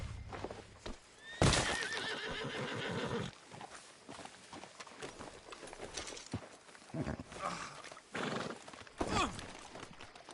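A horse in the video game Red Dead Redemption 2 gives one loud, close whinny near the start. Hooves clip-clop unevenly throughout, with a few softer snorts and shuffles.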